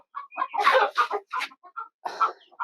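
Egyptian Fayoumi hens cluck nearby in short, choppy bursts and throaty calls, several birds overlapping in a quick, uneven series.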